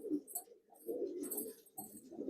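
A pure white Malbai pigeon breeding pair in a loft coos softly, with two or three low, rounded coo phrases separated by short pauses, close by.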